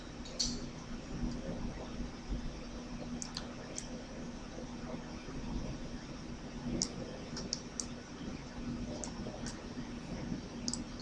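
Computer mouse clicks sound in quick scattered taps while working in CAM software on a facing operation, small dry ticks over a steady low fan hum, close and faint.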